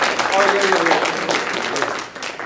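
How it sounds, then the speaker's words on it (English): An audience at a membership meeting applauds, a brief burst of clapping with a voice speaking over it at the start, fading out toward the end. "Round of applause."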